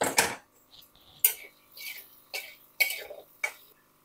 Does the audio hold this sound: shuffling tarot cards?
no